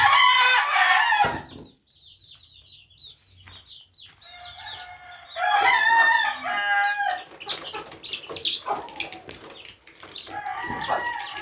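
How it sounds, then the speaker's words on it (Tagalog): Eight-day-old chicks and gamefowl chickens at feeding time, with bursts of high peeping chirps and clucking close by, pausing briefly then returning in busy overlapping calls. "Pakainin natin itong mga sisiw."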